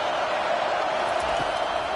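A steady, dense roar from a stadium crowd cheering for the defense in the EA Sports College Football 25 video game, during a Northwestern Wildcats vs Michigan Wolverines matchup. It holds constant throughout without distinct peaks.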